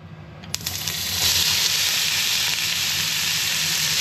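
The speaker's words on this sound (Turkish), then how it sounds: "Soğanlarımız şeffaflaşana kadar kavuracağız." Onions added to hot oil: a few clicks, then a sizzle that swells into a loud, steady crackle of sautéing at close range.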